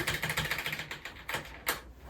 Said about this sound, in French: Ça c'est mon ancien clavier qui date de 1 an.